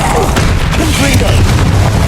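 Heavy booming blast of the Confringo fire spell in the Hogwarts Legacy game, a loud low explosion with crackling debris rumbling on for a couple of seconds.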